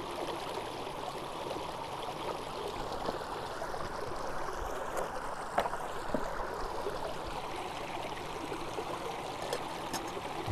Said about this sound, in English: it's not going to be too much longer until that water's boiling